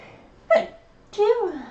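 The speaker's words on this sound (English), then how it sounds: "I'm gonna have to sneeze." A single sharp sneeze bursts out, followed a moment later by a voiced, drawn-out vocal sound, close and fairly loud.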